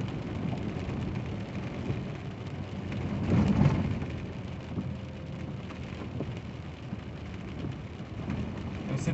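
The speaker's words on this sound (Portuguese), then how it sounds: "Estavam trabalhando e aconteceu de chover." Rain falls steadily on the BR-230 Transamazônica highway, a slick unpaved stretch under repair, as a continuous close wash of drops with a brief swell near the middle.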